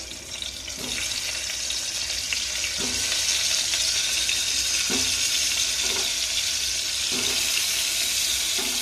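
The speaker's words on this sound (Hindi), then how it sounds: "अब हम करेले को इसमें डालेंगे।" Steady sizzling and crackling of bitter gourd pieces frying in hot oil, close up, with occasional soft knocks of pieces shifting in the pan; no voices.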